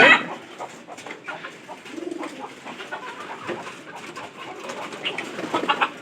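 Pigeons coo steadily and flutter while eating alongside chickens at a shared feeding, with occasional clucks and pecking, close and fairly quiet.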